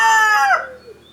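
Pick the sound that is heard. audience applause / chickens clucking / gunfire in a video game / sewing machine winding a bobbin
chickens clucking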